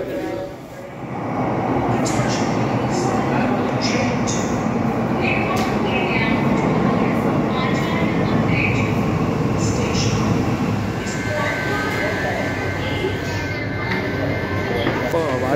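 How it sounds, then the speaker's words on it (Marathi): Inside a Mumbai underground Metro-3 train running at speed, a loud, constant roar fills the car from start to finish after a brief quieter moment. A voice talks over it. "काय स्पीड आहे बघा ट्रेनला"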